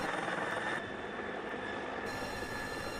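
A water-bombing helicopter working over land fires near Sampit, heard as a steady, fairly loud rotor and engine roar with a broad rushing wash, continuous throughout with no talk.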